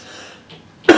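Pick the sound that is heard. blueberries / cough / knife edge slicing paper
cough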